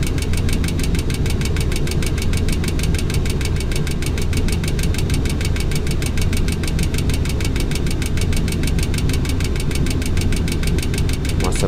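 Boeing 737-800 jet engines run as the throttle is pulled back in the FSX flight simulator, giving a loud, steady drone with a fast rhythmic pulsing that holds unchanged throughout.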